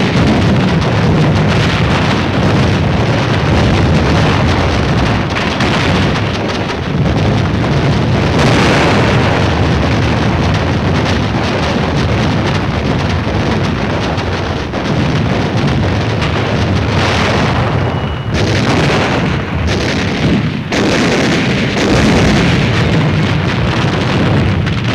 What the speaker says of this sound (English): From the air, supporting ships deliver point-blank fire.